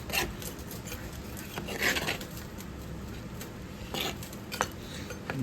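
Handi chicken stirred in a pot with a spoon, giving soft scraping and clinking metal sounds at a steady low level, with a few sharper knocks, close by and without talk.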